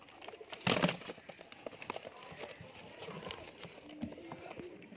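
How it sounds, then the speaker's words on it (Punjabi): High flyer pigeons coo softly in a quiet enclosure, low throaty calls coming in faint, scattered bursts, with a short sharp rustle or flutter early on and light background noise throughout. "ਡੱਬ ਵਾਲਾ ਕਬੂਤਰ ਲਾਲ ਅੱਖਾਂ ਦਾ"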